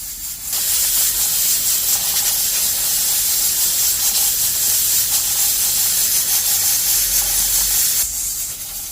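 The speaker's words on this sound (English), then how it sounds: "And the pressure cooker has started to pressure." Continuous loud hiss of steam escaping from a pressure cooker cooking red peas soup, steady and sharp, with faint kitchen rumble underneath.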